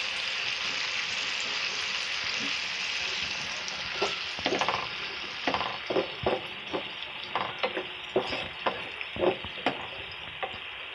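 Peas frying with spices in a hot pan give a steady sizzling hiss, broken by repeated scraping and stirring knocks that grow busier in the second half.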